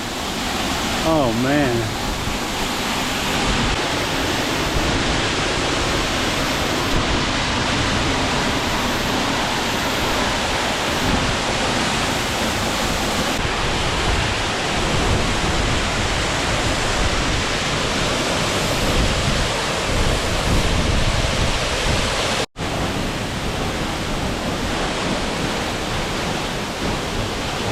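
A waterfall on a Washington trail roars with a dense, steady rush of falling water that fills the scene, while a voice speaks briefly over it.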